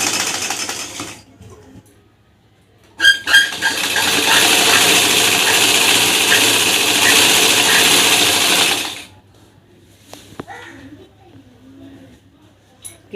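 A sewing machine stitches lungi cloth in a steady, loud run of about six seconds, then stops. Brief handling noises and talk come before and after it.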